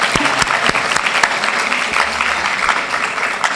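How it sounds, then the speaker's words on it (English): Steady audience applause at a women's business conference, dense continuous clapping with sharp individual claps standing out, fairly loud and close, no talk. "And a big round of applause."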